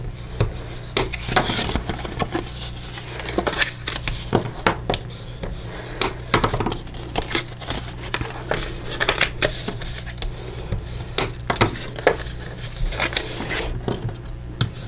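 A bone folder scores and burnishes fold lines into cardstock for a treat box, making repeated close rubbing and rasping strokes with sharp scraping accents, steady and fairly loud throughout.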